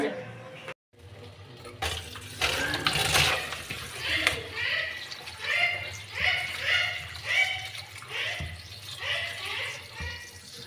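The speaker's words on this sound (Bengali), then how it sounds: "এগুলো ভালো করে ধুয়ে পরিষ্কার করে নিতে হবে" Rice and lentils are washed by hand in water for khichuri, giving steady sloshing, swirling and dripping sounds close by, with a voice speaking now and then over the water.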